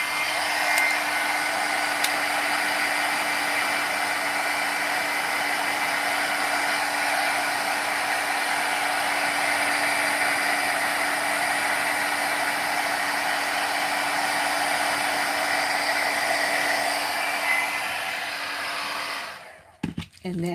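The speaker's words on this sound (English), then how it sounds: "You can apply it with the heat gun." A heat gun blows hot air onto a rhinestone sheet laid over a glass, producing a loud, steady whooshing whine that holds for about twenty seconds before cutting off with a few clunks.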